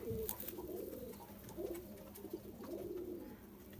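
Pigeons coo in a loft of Kasoori and Dub breed birds in Bakshi Nagar, with soft repeated low calls over steady background murmur and a few brief tonal accents.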